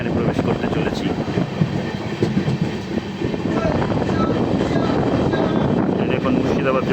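The 13126 Sairang Kolkata Express enters Murshidabad junction with a loud, steady rumble and clickety-clack of wheels on rails, and a voice talks over it.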